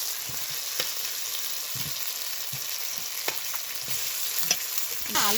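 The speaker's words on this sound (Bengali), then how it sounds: "এবার দিয়ে দেবো ভেজে রাখা আলু" Fried potatoes tipped into spiced masala in a pan, a steady oily sizzle with recurring scrapes and stirring knocks of a spoon, close and continuous, with a louder clatter near the end.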